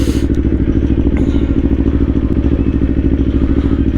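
A 2024 Kawasaki Ninja 500 KRT SE riding in first gear, its engine drone steady, loud and close under rushing wind, with a faint thump near the start.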